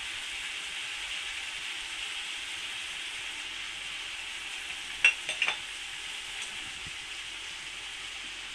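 Spice powders are stirred into frying food in a pan under a steady, close sizzle, with a few quick scrapes and taps of the spatula partway through.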